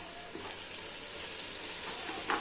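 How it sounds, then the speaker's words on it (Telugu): Ginger garlic paste frying among fried onions in a pan, a steady soft sizzle and hiss throughout with faint stirring scrapes, close and alone. "అల్లం వెల్లుల్లి పచ్చివాసన పోయే వరకు వేయించుకోవాలి"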